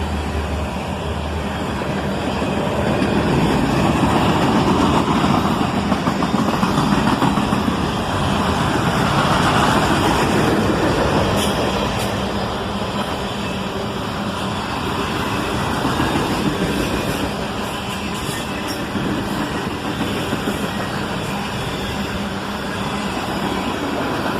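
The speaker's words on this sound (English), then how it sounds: "A pair of old AC-44 CWs lead this auto-rack train north." A freight train led by a pair of old AC-44CW locomotives, the leader in YN2 paint, hauls auto-rack cars north at sunset. A steady, broad rumble and wheel roar swells and eases slightly as it passes close by.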